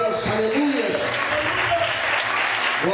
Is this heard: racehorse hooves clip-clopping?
no